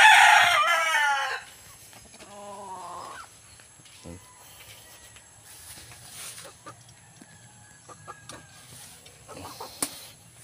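A labuyo wild chicken rooster crows loudly at close range at the start, then clucks and calls intermittently while someone speaks nearby.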